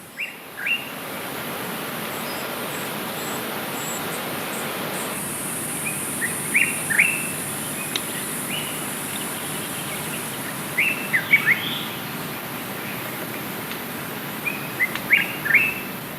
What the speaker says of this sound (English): I'm filming a bearded scrub robin which is feeding a fledgling